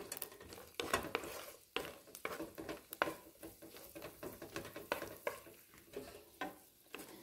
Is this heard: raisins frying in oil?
yes